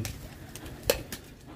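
Pedigree pigeons, mostly golden types, coo inside a wire-mesh enclosure, a short soft burst of low cooing with a sharper note near the middle, close by.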